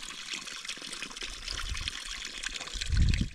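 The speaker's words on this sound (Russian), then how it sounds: "Вот он, ручей." An icy mountain stream on a hiking trail in the Altai trickles and babbles close by, a steady broadband watery rush that swells near the end, with no talking.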